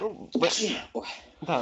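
A single sneeze bursts out amid lively Russian chess commentary on Norway Chess 2017, quick and close, with people talking right around it.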